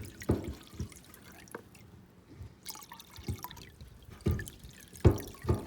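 Old lime-green gasoline being siphoned out of a 1983 Oldsmobile Cutlass G-body fuel tank through a tube, heard as irregular drips and small liquid trickles with short splashy bursts, close and fairly quiet with no talking.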